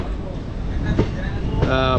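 A train pulls slowly out of Kolkata station, its low rumble and wheel noise steady and close, with a voice talking over it.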